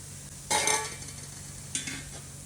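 Mango pickle ingredients, including mustard seed and dried red chillies, being stirred into heated mustard oil, giving two bursts of scraping and sizzling, one loud near the start and a softer one later, with no talk.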